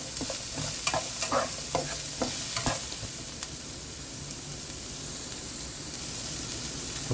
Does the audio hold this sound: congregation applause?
no